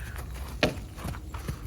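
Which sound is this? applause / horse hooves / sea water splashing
horse hooves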